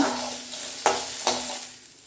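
Tomato and coconut sautéing in a pan for thoothuvalai leaf chutney, a steady soft sizzle with two brief scraping stirs, close and alone.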